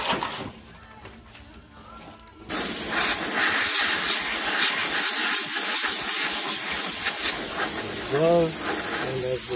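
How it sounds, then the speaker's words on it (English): Compressed air blasts onto hot spot-welded sheet metal, a loud, continuous hiss that begins abruptly after a quieter stretch and holds steady to the end, with a brief whistling tone near the finish. "I'm going to use the compressed air to cool things off."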